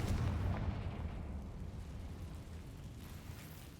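Confringo fire spell going off in a Harry Potter video game, a heavy booming blast with a loud rumbling onset that decays into a sustained low roar, no voices.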